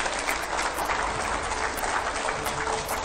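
Sustained, loud studio audience applause welcoming Mahmood Madani onto a TV9 interview set, a dense unbroken wash of clapping from many hands, close and continuous with no voices over it.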